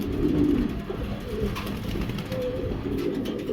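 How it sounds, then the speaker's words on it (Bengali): Pigeons cooing at a Bangladeshi pigeon market where restless round-bodied pigeons are kept for sale, soft throaty coos repeating steadily and close over a low crowded background. "এই যে দেখেন অনেক ছটপটে কবুতর"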